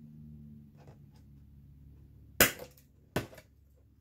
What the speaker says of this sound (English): So about halfway through the center, hole punch.